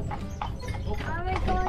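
Horse hooves clip-clop steadily on a road as a horse pulls a jaunting car near Killarney. People talk over the rhythmic hoofbeats throughout.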